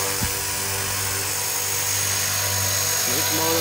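A Blade 330S RC helicopter fitted with an upgraded X-Nova motor runs at close range, giving a loud, steady electric whine with a buzzing drone that holds constant throughout, with a short voice near the end.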